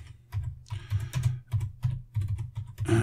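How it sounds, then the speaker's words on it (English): Rapid clicking of keys on a computer keyboard, typed in quick bursts with brief pauses, close and clear with no talking. "That's me typing."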